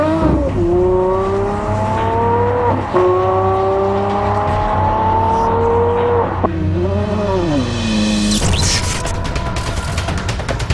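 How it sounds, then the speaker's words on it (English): Aston Martin One-77 sports car engine revving loudly and close, with sustained rising tones climbing through the gears, a brief dip, another climb, then a rougher burst near the end. "there's an amazing sound to the engine"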